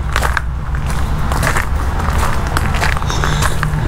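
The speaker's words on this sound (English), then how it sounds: "I'm sure you can hear my sneakers on this shell" Sneakers crunch steadily along a crushed shell walkway by a picnic area in a park, a continuous gritty scuffing of footsteps close up with no pauses.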